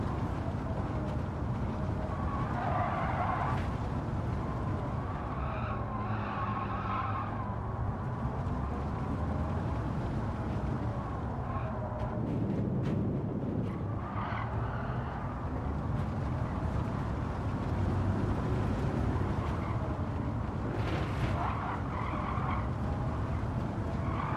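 Race car tires scrubbing and squealing through an understeering corner in Gran Turismo 7, a heavily overpowered car under steady loud engine drone, with wavering tire squeal rising and falling across several stretches.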